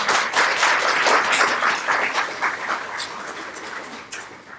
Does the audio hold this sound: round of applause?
yes